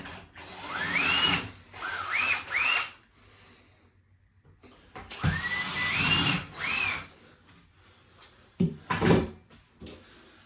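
A power drill bores holes for mounting a fitted five-shelf DVD unit, winding up in short, rising whirring bursts, two groups of about three, with quiet gaps between and a few faint knocks near the end.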